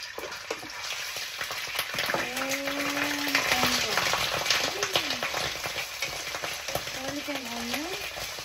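Garlic sizzling and frying in a hot pan for a pinakbet dish, a steady close crackle with stirring scrapes, a voice speaking over it.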